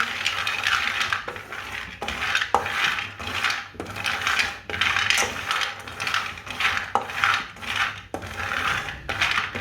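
A cup of almonds being dry-roasted and stirred in a pan over low heat, giving repeated scraping, rattling strokes in a steady rhythm, close and fairly loud with no talking.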